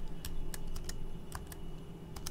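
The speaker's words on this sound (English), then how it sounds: "I can go ahead and hit 4 on my keyboard" Computer keyboard keys click in a quick irregular series of sharp taps, fairly close and clear against a quiet background with no talking.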